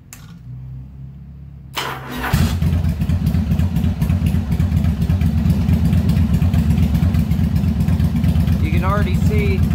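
A 1988 Yamaha Virago 1100 motorcycle engine, set up for carburetor synchronization, cranks briefly then settles into a loud, steady close-up idle with a rumbling low throb; a voice speaks briefly near the end.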